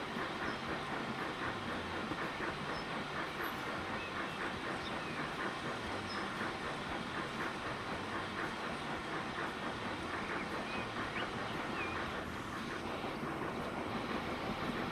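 A locomotive in Transport Fever 2 rolls along with continuous rumbling and rhythmic clickety-clack of wheels on rails, accompanied by a light hiss, steady and fairly close.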